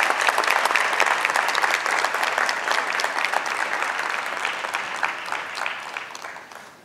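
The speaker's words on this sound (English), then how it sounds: "let's give all of our winners another round of applause" A crowd at a Black History Month diversity celebration applauds award winners, loud dense clapping that holds steady and then gradually tapers off toward the end.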